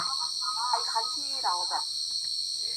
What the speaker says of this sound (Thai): ฟังเสียงจิ้งหรีดไปก่อนนะคะ